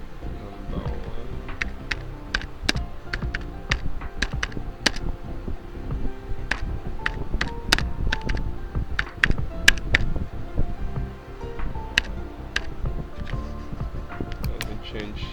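Rapid, irregular clicking of keys on a computer keyboard while working in CorelDRAW on a restaurant flyer, with a steady low background hum running underneath throughout.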